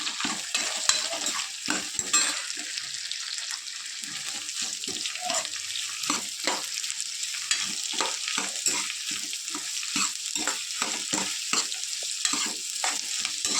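Four medium chopped onions sizzle in hot oil for pepper rice, with a steady loud frying hiss and frequent scraping stirs of a spoon throughout; no voice is heard.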